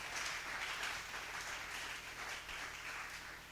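Church congregation clapping hands together in steady, dense applause, moderately distant and fairly quiet, with no talk over it.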